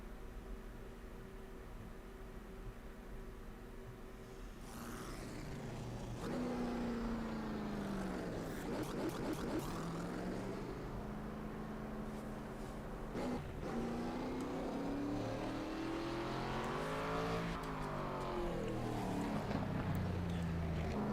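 Race car engines on the Indianapolis GP track in the iRacing video game, a steady drone that rises in pitch, drops and climbs again as the car accelerates and shifts, with no voices.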